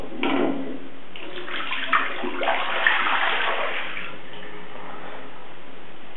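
A pressurised water-saving tap runs in a brief close gush that swells and fades over a few seconds, with a couple of small knocks.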